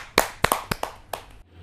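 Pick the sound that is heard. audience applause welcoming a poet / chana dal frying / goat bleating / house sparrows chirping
audience applause welcoming a poet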